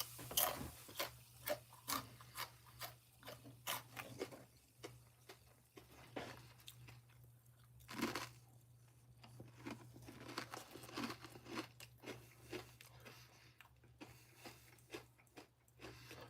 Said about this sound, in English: I'm eating the pickle jugs